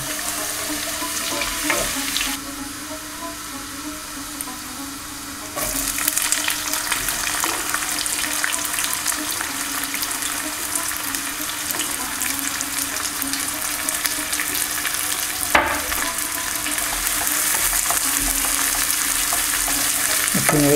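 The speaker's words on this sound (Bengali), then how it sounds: "তারপর রসুনগুলোকে ছেড়ে দিয়ে আমি রসুনগুলোকে একটু ব্রাউন কালার করব।" Garlic fries in a generous amount of hot oil, a loud, steady, close sizzle with a brief stirring scrape and a jump in intensity early on, with no talking.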